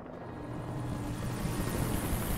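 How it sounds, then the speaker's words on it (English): Chopper in the Alan Wake video game, a dense, loud rotor and engine roar that swells slightly as it continues, close and unbroken, with no voices. "Great, now they got a freaking chopper again."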